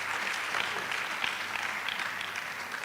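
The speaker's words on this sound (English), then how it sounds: "Please give him a very strong round of applause." Steady crowd clapping at a public lecture and anniversary brochure launch, many hands together in an even, moderately loud wash that carries through the whole moment.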